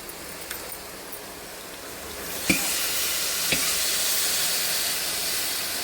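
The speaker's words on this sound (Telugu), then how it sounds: "ఇప్పుడు అందులోనే చింతపండు రసం పోసుకోవాలి" Tamarind juice poured into a hot pot sets off a rising sizzle and steamy hiss, with a couple of sharp splashes as the liquid hits, then a steady crackling fry continuing close by.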